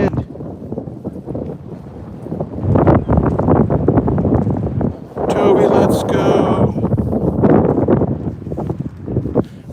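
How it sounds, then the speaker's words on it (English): Gusty wind roars across the microphone during a Thanksgiving morning walk with a dog, buffeting loudly in waves with brief lulls. "Woo, the wind."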